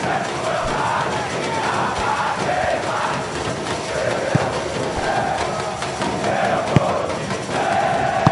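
A dense stadium crowd shouts and chants continuously during a football match in the PES 20 video game. The roar is loud, sustained and rising and falling in waves, with no clear talk over it.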